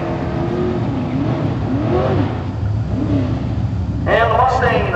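Drag racing cars at a King of the Hill round for 1299-and-faster racers, engines revving in rising and falling sweeps before a sharp, loud launch, heard over a public-address voice.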